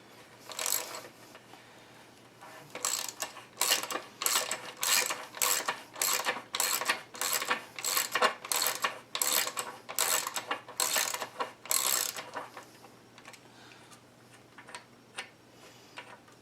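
A ratchet wrench clicks in rapid bursts, turning counterclockwise to loosen the left bottom bracket bearing on a NordicTrack S22i exercise bike, close and steady for about ten seconds before stopping.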